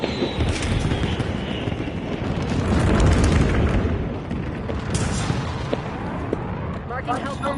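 Bomb-run explosions roll through a Call of Duty match, a dense, loud barrage of booming blasts and rumble layered with gunfire, continuing throughout with no pause.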